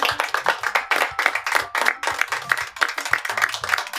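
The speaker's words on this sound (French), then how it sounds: "Veuillez les applaudir." An audience claps in quick, uneven bursts of individual hand claps, close and moderately loud, with faint murmuring underneath.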